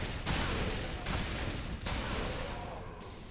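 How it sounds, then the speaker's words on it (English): Fiery booms from weapon attacks in the Fable video game, a dense run of loud blasts with three sharp onsets over a continuous roaring rumble. "So now we got to hear some fire booms again."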